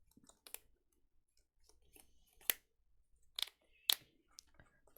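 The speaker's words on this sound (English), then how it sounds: "Shuffle it up." Trading cards for a Neopets Battledome deck being shuffled, several crisp snapping riffles with quiet handling sounds between them, close and clear with no talking.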